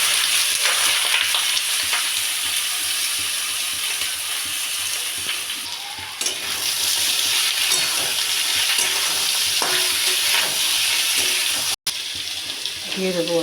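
Drained boiled papaya frying in oil with a dried red chili, a loud continuous close sizzle with occasional stirring scrapes throughout, no voices.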